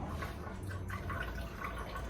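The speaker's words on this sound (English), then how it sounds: "we grab our strainer and we're just going to pour it back into here" Homemade watermelon juice is poured through a strainer into a container, giving a continuous soft splashing trickle with small drips.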